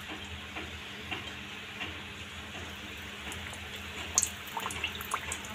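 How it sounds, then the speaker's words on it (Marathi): Puris frying in hot oil for an aamras thali give a soft, steady sizzle and bubbling, fairly faint and close, with a few light clinks and crackles near the end and no talking. "आता बघा आपण हे असं तेल आपलं तापलेलं आहे. आपण आता त्यात पुरी टाकून ह्या पुऱ्या छानपैकी अशा करून घेऊया."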